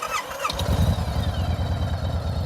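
A motorcycle engine cranks over and catches, settling straight into a loud, lumpy, rumbling idle close by, with no talking over it.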